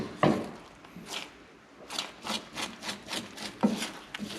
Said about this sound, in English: I'm just using this tool so I can scrape off all of the egg that's cooking on the side.